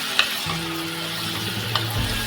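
Fresh dried shrimp (jawla) being stirred as it fries in a pan, a steady close sizzle broken by a few light scrapes and clinks of the spoon.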